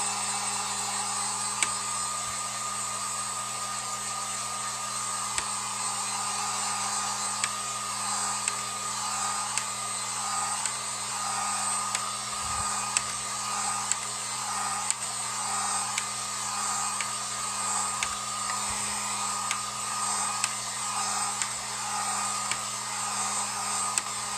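A hair dryer blows steadily and close for a long stretch, drying paint on a pumpkin craft board, its whirring hum holding constant with a slight wavering as it is moved about.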